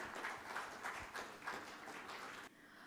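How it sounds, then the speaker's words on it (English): Audience applause with a standing ovation for a guest of honor at an architecture and interiors design event in Chennai, a steady wash of clapping with rhythmic swells that drops off abruptly near the end. "Can we have a huge round of applause and a standing ovation for our guest of honor?"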